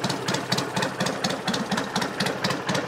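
A 1963 BSA Rocket Gold Star motorcycle engine idles alone at close range with a steady, even tick-over, its regular low firing pulses repeating about four times a second.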